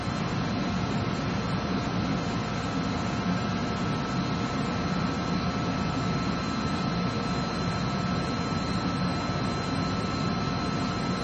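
A floor-standing tie-rod press with air clutch and brake runs with a loud, steady, broadband mechanical roar and a constant hum that hold unchanged throughout.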